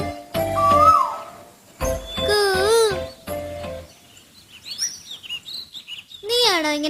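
Bright, warbling cuckoo-like song in several swooping whistled phrases separated by short pauses, from a children's animated cartoon; it sounds like a voice imitating the bird.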